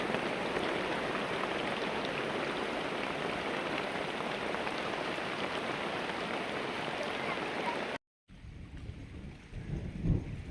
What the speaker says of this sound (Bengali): বাইরে বিশাল বৃষ্টি হচ্ছে